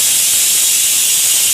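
Okra slit and dry-roasted in a frying pan over a low gas flame gives a steady, loud hiss throughout, with no talking.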